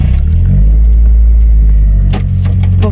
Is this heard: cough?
no